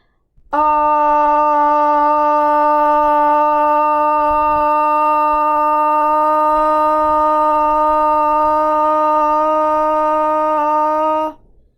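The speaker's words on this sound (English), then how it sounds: "you're going to hold this ah for 10 seconds as loud as you can" One voice holds a single loud, steady "ah" vowel at an even pitch for about ten seconds as a Parkinson's disease voice exercise, then stops.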